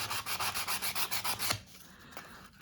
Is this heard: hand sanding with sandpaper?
yes